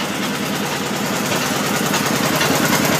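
Idling engine of a John Deere tractor, either a 1941 John Deere LA or a 1974 John Deere 110, a loud close steady putter with rapid even firing pulses and no talk.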